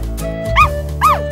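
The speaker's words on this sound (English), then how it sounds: "Dog." Two short, high dog barks or yips, close by, spaced about half a second apart over soft background music.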